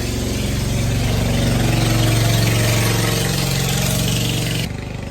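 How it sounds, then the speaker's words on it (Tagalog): A loud, steady boat engine drone rumbles low and constant as the boat passes close by in Hagonoy, then drops off abruptly near the end. "pinatay ko muna kasi maingay yung bangka na dumaan"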